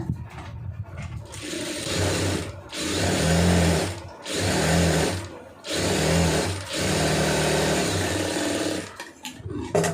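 Sewing machine stitching a folded hem on churidar pants, running in four loud bursts of steady whirring separated by short pauses, close and clear with no talking.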